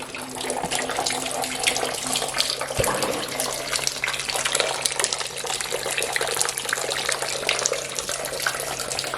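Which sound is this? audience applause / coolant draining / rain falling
coolant draining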